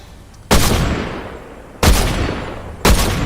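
A video game sniper rifle fires three times: three heavy, booming shots about a second apart, each ringing out into a long echoing decay, loud and close.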